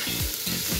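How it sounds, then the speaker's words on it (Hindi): Vegetables, including potatoes, fry in a pan for vegetable French toast, giving a short, close, steady sizzle with faint stirring scrapes. "हमने सिर्फ इसको 1 मिनट तक अच्छी तरह से फ्राई करना है, ताकि जो हमने इसमें सब्जियां ऐड की हैं वो अच्छी तरह से फ्राई हो जाएं।"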